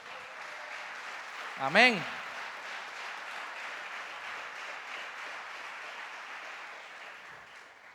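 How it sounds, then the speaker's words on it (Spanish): A church congregation applauds during a sermon, a steady, even wash of clapping that runs the whole stretch, with a brief spoken exclamation near the start. "Dale un fuerte aplauso a Dios."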